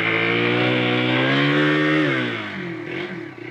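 Hero Xpulse 200 4V motorcycle stuck in loose mud revs up loudly and close, the engine note rising and holding, then falling off and stuttering as the throttle eases.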